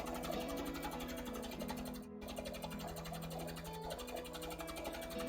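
A Janome 5100 sewing machine hums steadily and continuously at a moderate level, with a brief gap near the middle, while sewing pumpkin shorts.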